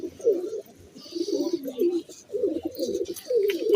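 Black-faced pigeons with red eyes coo nearby in repeated soft, throaty rolling phrases, with faint background noise between calls.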